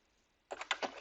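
Report title typed on a computer keyboard, a quick run of about six crisp, close key clicks after a short silence.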